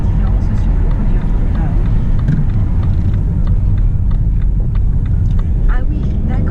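Race cars of a motorsport event passing close by, a loud continuous engine roar that stays heavy and steady throughout, with people talking over it.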